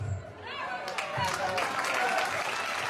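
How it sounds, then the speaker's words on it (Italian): Audience applause at a small folk festival in Solarussa, Sardinia, honouring Antonello Manai: a steady wash of clapping that builds after the first second and continues, with a voice speaking over the start. "Un grandissimo applauso ad Antonello Manai"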